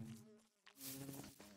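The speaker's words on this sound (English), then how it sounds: "The subtitles say, bees buzz happily this way." Bees buzzing in the Minecraft video game, a steady droning hum with a brief dip in the middle, moderately loud and heard alone.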